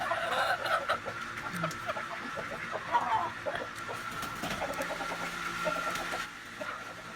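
Chickens cluck and chatter continuously while being fed aratilis berries, a busy close flock of hens calling over one another with soft background noise.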